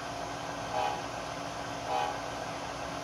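A steady low rumble and hum of a small Walthers GE ES44 model locomotive motor, fairly quiet, with two brief tonal swells like a horn sounding about a second apart.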